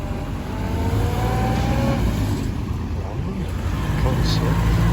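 A Mercedes revs its engine at a car meet with burnouts and classic cars, a loud, steady engine roar close by with rising and falling pitch, while people talk over it.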